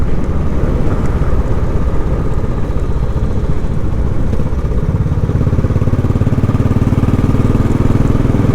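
A Royal Enfield Classic 500 motorcycle on the move, its engine droning loud and steady from close by throughout. No one speaks over it.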